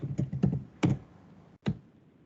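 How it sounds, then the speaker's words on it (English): Typing on a computer keyboard at a desk, a handful of separate key clicks in short bursts with pauses between, close and fairly quiet, with no talking. "Typing speed is too low."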